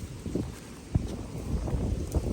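Gusty wind blows outdoors in the cold morning beside a house, a soft, steady rush with occasional faint rustles and bumps, fairly quiet and with no one talking.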